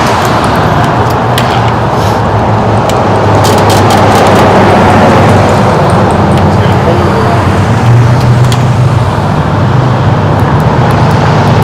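Four-wheeler engine idling outdoors near a tree, a steady low rumble running throughout at moderate distance, with people talking over it.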